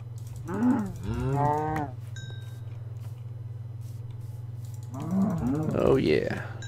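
Cows moo in Minecraft, two long drawn-out bovine calls separated by a pause, close and clear over a steady low hum.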